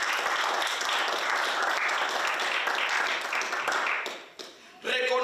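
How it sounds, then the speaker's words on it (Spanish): A church congregation clapping together, a dense sustained burst of applause that dips briefly near the end before a voice comes back in. "dale palmas a Cristo"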